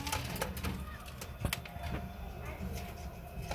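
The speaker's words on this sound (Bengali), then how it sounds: "এই যে কবুতর খাবার খাচ্ছে" Racing pigeons feed in their loft, with scattered sharp pecking clicks on the feed and soft cooing from the birds, all fairly close and steady against a busy background.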